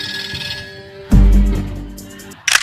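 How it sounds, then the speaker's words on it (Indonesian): A telephone rings loudly and close by, a trilling electronic ring that cuts off abruptly and is followed by a heavy low thump and a short clatter. "So, telepon."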